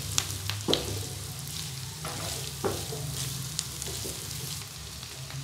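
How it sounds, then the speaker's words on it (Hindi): Chopped carrots, onion and capsicum fry in a pan, a steady close sizzle with scattered clicks and scrapes of stirring, no voices. "2 मिनट तक फ्राई करेंगे।"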